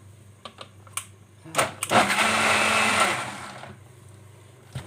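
A blender whirs for about two seconds, loud and steady, blending homemade eggless-oil-free mayonnaise with milk, vinegar, boiled egg, boiled potato and parsley, preceded and followed by a few sharp clicks and knocks.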